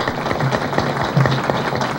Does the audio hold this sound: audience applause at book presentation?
yes